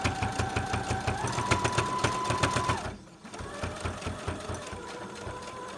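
A sewing machine topstitches a pleated fabric mask, its rapid steady needle clatter running close and even, pausing briefly midway before starting up again.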